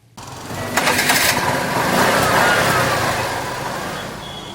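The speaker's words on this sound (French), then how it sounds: "Il s'agit du démarrage d'une moto à 3 roues sur la route de Frères." A three-wheeled passenger motorcycle starts on the Frères road, its engine catching abruptly and then running loud and close with a rising, revving drone amid roadside noise.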